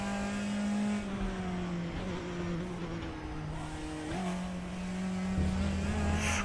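Engine of a race car in the RaceRoom driving game, a steady loud drone with pitch that climbs and drops through gear changes, close and continuous with no talk over it.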